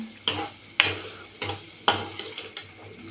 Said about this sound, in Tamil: இன்னும் கொஞ்சம் நேரம் வேகணும். அதனால் வதக்கிட்டே இருங்க